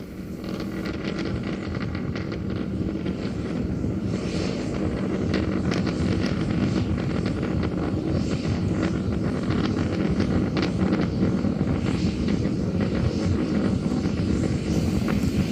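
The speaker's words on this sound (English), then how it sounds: "we're getting ready to shut down the first of the 3 Raptor engines." SpaceX Starship SN11 with three Raptor rocket engines in flight, heard from afar as a continuous rough roar with wind buffeting, steady and moderately loud throughout.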